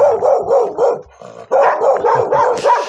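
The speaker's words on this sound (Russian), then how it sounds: "Ругается у дяди Вани собаки" Dogs at a neighbouring village house bark loudly and close in quick repeated bursts, with a short pause in the middle before the barking resumes.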